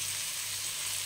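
Shrimp sauté in garlic butter in a pan with a steady, continuous sizzle, close and even, and no voices.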